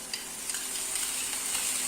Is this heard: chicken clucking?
no